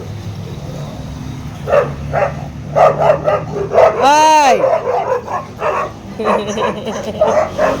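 Dogs bark and yip repeatedly close by, with a whining rising-and-falling call in the middle and a person's voice briefly heard.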